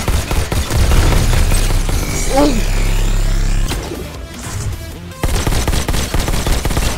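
Gunfire in the VR shooter Robo Recall as robots are shot at their weak spots: loud, dense bursts of rapid shots with booms and crashes, a brief lull midway, then heavy firing resumes.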